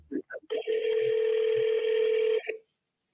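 A telephone call being placed during a live seller call session, with a steady tone lasting about two seconds after a few short clicks and brief speech fragments, then silence.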